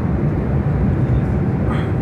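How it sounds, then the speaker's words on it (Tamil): Airplane cabin noise on a flight from Sofia to Rome, a loud, constant low roar of engines and airflow filling the cabin without pause. "பல்கேரியா கேபிட்டல் சோஃபியாவிலேருந்து இட்டாலியில் இருக்கிற ரோம் சிட்டிக்கு இப்போ ஃப்ளைட்டில் போயிட்டுருக்கேன்"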